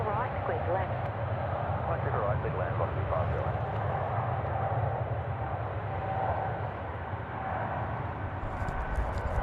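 An Air Canada airliner rotating on takeoff at Sydney Airport, a steady, loud broadband engine roar that holds constant throughout, with a voice heard faintly beneath it.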